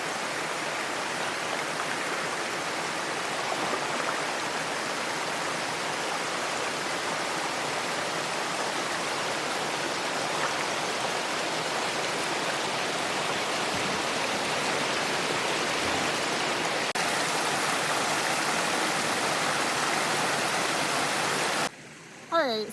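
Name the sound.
rapidly running water at a beaver dam on a river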